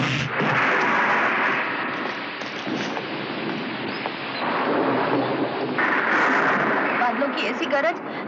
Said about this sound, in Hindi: बादलों की ऐसी गरज, ऐसी बिजली तो मैंने जिंदगी में नहीं देखी।